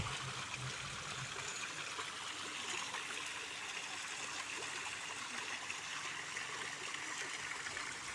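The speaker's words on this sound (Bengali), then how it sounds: "এই ঝর্ণাতে ঝিরি ঝিরি পানি প্রবাহিত হচ্ছে" Water trickles and splashes steadily down an artificial waterfall, a constant broadband rush heard alone without talk.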